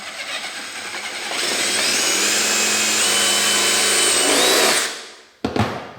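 A power drill bores a hole into a metal detector's battery pack, a steady close whine that holds for a few seconds, winds down, then ends with a short knock.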